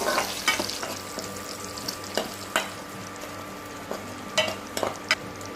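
Ginger and garlic sizzle steadily in hot oil while a spoon scrapes and stirs the pan with occasional sharp clicks.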